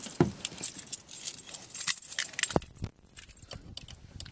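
Keys jingle and clink close up during an attempt to start a 1998 Ford F-150 pickup, in uneven metallic bursts followed by a short thump and brief mechanical rustle.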